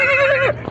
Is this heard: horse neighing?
yes